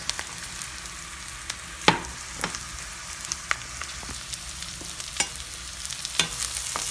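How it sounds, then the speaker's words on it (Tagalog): Carrots fry in a pan with garlic as a chicken curry base, giving a steady hiss of sizzling oil broken by frequent sharp clicks and scrapes from a spatula, close and fairly loud, with no voices. "Ayan guys, niluluto na mga natin carrots."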